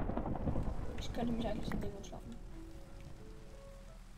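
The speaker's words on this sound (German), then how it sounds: "Es gewittert, ich hab Angst." A heavy thunderstorm in the video game Minecraft: a deep thunder rumble and rain swell early, then settle to a quieter rainy wash while someone talks over it.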